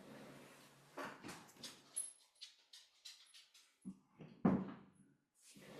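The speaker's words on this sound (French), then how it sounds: "il faut que j'ouvre la porte à mon chien" Dog whining at a house door, a series of faint whimpers and scratchy bursts in an uneven rhythm, quiet and close, with no talking.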